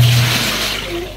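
Water gushes into a home washing machine after a water-level and wash-cycle repair, a loud steady rushing flow that slowly eases, heard alone.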